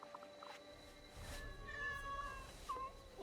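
A cat meows twice in Assassin's Creed Shadows, the rising calls ringing clearly over a quiet ambient game backdrop.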